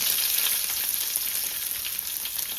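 Sliced onions frying in oil with bay leaf, shahjeera, cloves and cinnamon for palak rice, a constant bright sizzle with light crackles, close and unbroken.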